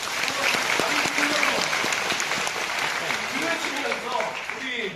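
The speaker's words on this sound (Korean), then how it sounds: "박수 한번 주세요." Studio audience at a live KBS talk-show taping applauding steadily, a dense, sustained wash of clapping with some voices mixed in under it.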